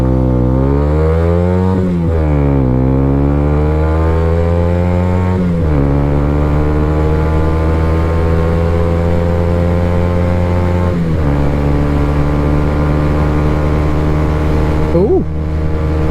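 A Honda CB125R motorcycle accelerates hard, its engine note climbing steeply through several gears with brief dips at each shift, loud and close as the rider pushes toward 60 miles per hour.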